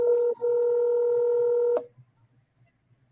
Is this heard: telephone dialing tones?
yes